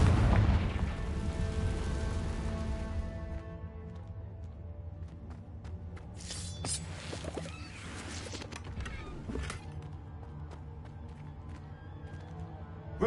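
Confringo blasting spell explosions in Hogwarts Legacy, a heavy boom at the start that fades into rumbling debris, then scattered crackling impacts and sharp bursts, no talking.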